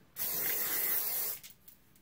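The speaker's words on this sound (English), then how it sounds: "And then I'm gonna spray it." A single continuous aerosol spray hisses for about a second, close and steady, then cuts off into quiet.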